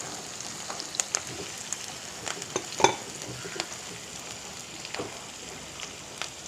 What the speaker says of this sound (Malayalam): നന്നായിട്ട് നമുക്ക് സോട്ട് ചെയ്തെടുക്കാം